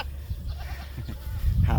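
Goats on a Philippine livestock farm give short, wavering bleats, a few calls rising over each other at close range, with the loudest bleat toward the end.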